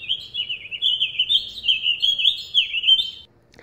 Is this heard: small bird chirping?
yes